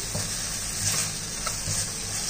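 A vegetable mixture for kambu dosa sizzles steadily in a pan while being stirred, giving a close, continuous frying hiss with soft scraping.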